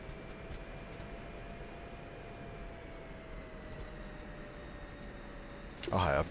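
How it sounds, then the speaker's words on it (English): Steady, continuous drone of a Hornet fighter jet taxiing, with a faint whine gliding slowly lower over several seconds and a brief louder burst near the end. "All right, I'm taxiing now."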